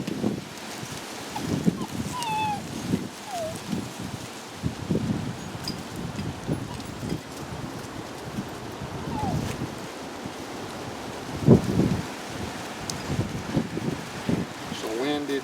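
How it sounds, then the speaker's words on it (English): Gusty wind buffets the microphone outdoors, with rumbling bursts and a steady rushing noise throughout. "It's a windy day today, folks."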